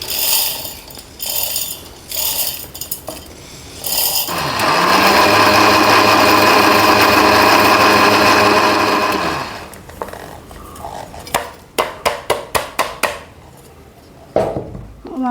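A mixer grinder pulverises roasted coconut for Kerala-style chammanthi podi, roaring in one loud sustained burst of about five seconds, with clinking and tapping of the jar before it and a quick run of sharp knocks afterward.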